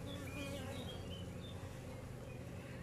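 Honeybees buzzing around a hive in an apiary, a dense, steady drone of many wings held close and moderately loud for the whole stretch, with a few brief higher whines of single bees passing near.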